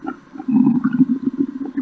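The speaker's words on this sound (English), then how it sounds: "My stomach is growling louder." A hungry stomach growling in a low, continuous rumbling gurgle that swells and pulses for about two seconds, close and fairly loud with no talking.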